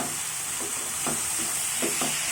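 Bitter gourd pieces stir-frying with onions in a pan for pavakkai poriyal, a steady close hiss of frying broken by a few soft scraping stirs, with no talk.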